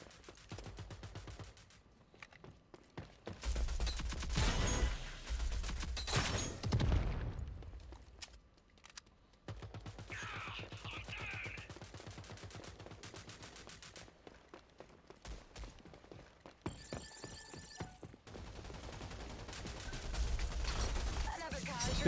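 Bursts of gunfire from the video game Rogue Company come in separate loud volleys with quieter gaps and mechanical clicks between them, with talk at times.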